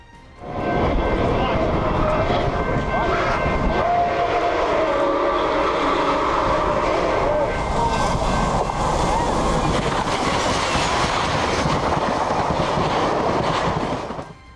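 A locomotive rumbles loudly past a railway crossing at close range, a steady heavy roar with rattling wheels and a high whine running throughout.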